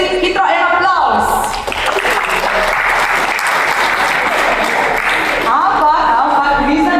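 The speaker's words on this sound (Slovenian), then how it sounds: "dajte si hitro en aplavz" An audience at a public discussion event claps warmly for several seconds, a dense, steady burst of applause that fades slightly at the end as a voice begins.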